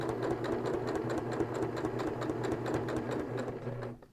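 A sewing machine stitches and backstitches a seam on a fabric popcorn bag, a close, rapid mechanical chatter with a steady motor hum that runs evenly before cutting off.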